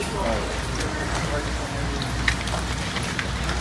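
Steady rain patters and hisses on a surface throughout, an even wash of droplets with a few sharper taps standing out.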